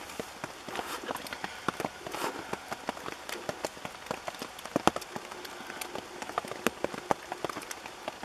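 Light rain taps on a tent in a Romanian outdoor setting, a dense, irregular patter of close, scattered drops with no voices.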